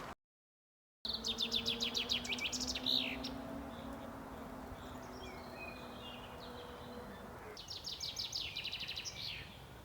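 Birds sing in a forest beside a cemetery in Poland, with repeated bright chirping phrases near and far over a soft insect hum, after a brief silent gap at the start.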